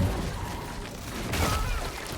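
Gunfire in the video game Cronos: The New Dawn, a dense, continuous rumble of shots and blasts with a heavier burst partway through, fairly loud throughout.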